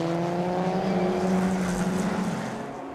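Race cars at Oulton Park circuit roar past in a sustained, loud engine drone that holds steady, then fades slightly toward the end, with no voices.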